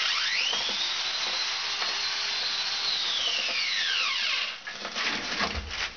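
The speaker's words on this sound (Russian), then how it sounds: "И вот этой дрелью начинаю делать сухую смесь." A power drill mixing dry sand and cement at a 1:5 ratio whines loudly and steadily, pitch sweeping up and down as it churns, then rougher scraping and bumping as the load shifts.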